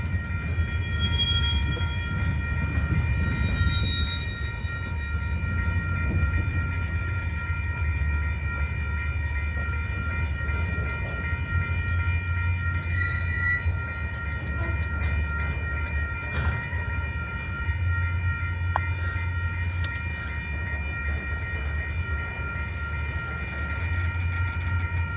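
A train rolls past a hurricane-damaged fence line, its steady rumble and wheel noise continuing throughout, with a long sustained horn blast carrying over the passing cars.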